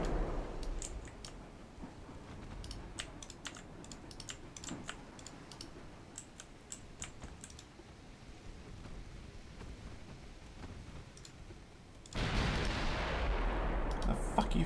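Scattered sharp gunshots from soldiers in a British legendary campaign of a strategy video game crackle steadily at moderate distance over a low rumbling battlefield bed, with a louder burst of noise near the end.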